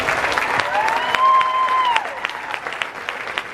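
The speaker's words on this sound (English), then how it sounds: "Give them applause." An indoor audience at a high school marching band awards show applauds band alumni with a burst of clapping and a drawn-out whistle or cheer on top, fading into scattered claps.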